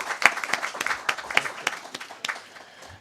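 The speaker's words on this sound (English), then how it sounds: "please join me in thanking the speakers and giving them a round of applause" Sparse applause from a conference audience thanking panel speakers on the digital sports economy, a scattering of separate claps in an uneven rhythm that thins out toward the end, with faint murmuring underneath.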